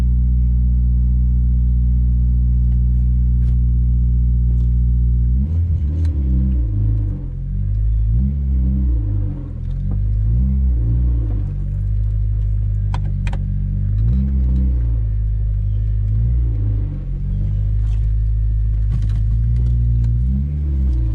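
A Honda Civic Si engine idles just after start-up with a steady, loud low rumble, then settles into a slightly uneven, pulsing idle that continues for the rest of the clip.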